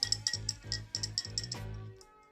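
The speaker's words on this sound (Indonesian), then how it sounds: "Kita aduk." A spoon stirs salt into a glass of water, making quiet, rhythmic clinks against the glass in a quick repeating pattern that fades out at the end.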